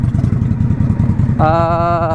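An Indian bobber motorcycle idles close by with a deep, steady, loping rumble, its engine note rising slightly in pitch and turning more tonal partway through.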